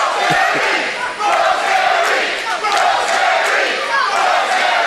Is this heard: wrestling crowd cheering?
yes